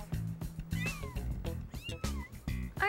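Young kittens meow repeatedly in a quick run of small, high, wavering cries, close and clear, with several overlapping voices and brief pauses between calls.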